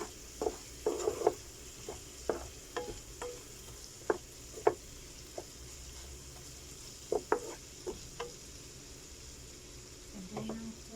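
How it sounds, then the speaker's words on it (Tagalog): Chicken is stirred in a frying pan, with a low sizzle under irregular scraping and clinking strokes of the utensil against the pan. The sounds are quiet and close, and there is no speech. "Imikos-mikos ang chicken."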